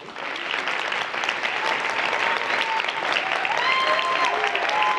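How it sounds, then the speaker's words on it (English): An audience at the Philadelphia premiere of The Boys in the Boat applauds the coaches and athletes, a steady, dense wash of clapping sustained throughout with a few faint whoops mixed in. "everyone on your feet so that we can applaud you as well"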